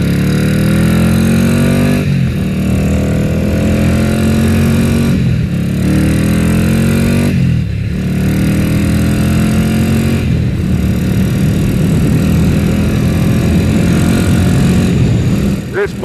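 A Ducati Greenframe 750 Super Sport motorcycle ridden on the road, its engine loud and close, rising in pitch through each gear and dipping at roughly regular shifts over a steady roar of wind.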